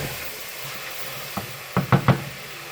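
Spicy sausage sizzles in a pan under a low steady hiss, then a few quick knocks of stirring land near the end.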